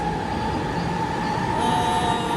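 An Athens metro train in Greece rumbles continuously at close range, with a steady mechanical whine and a high hum entering near the end.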